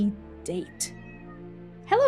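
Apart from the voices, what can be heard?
cat meowing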